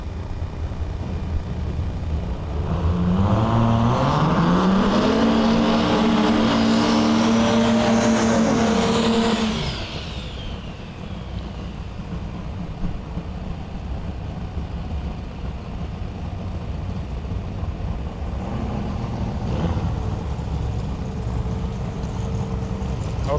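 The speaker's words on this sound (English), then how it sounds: "another C7 Corvette. This one, though, more like a Pro Mod and diesel powered." A diesel-powered C7 Corvette Pro Mod race car on a drag strip at a pro testing event: a loud turbocharged roar climbs through rising gears, then recedes, and a distant engine drone lingers afterward.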